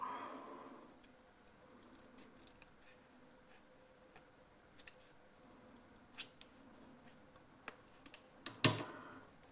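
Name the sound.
scissors cutting paper for scrapbook embellishment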